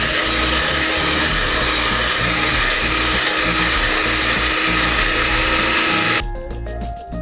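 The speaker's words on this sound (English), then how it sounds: "I have our hand mixer, and now I'm going to beat our cake mix on medium speed for 2 minutes" Electric hand mixer beats cake mix on medium speed, a loud continuous whirring hum close by that cuts off near the end, with no voices.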